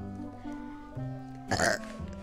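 A single throaty burp rises out of a low steady background hum, short and fairly close.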